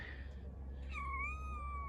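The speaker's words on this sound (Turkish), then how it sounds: "Orada bir kedi var." A kitten meows once, drawn out and wavering, close and fairly clear over a low steady hum.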